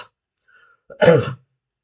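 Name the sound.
cough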